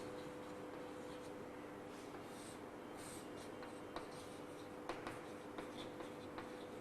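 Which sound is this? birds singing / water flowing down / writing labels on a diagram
writing labels on a diagram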